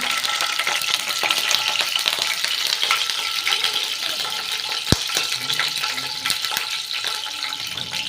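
Oil frying on low flame with turmeric and chillies for dosa gives a steady, fairly quiet sizzle with a single sharp clink of a utensil partway through, no voices.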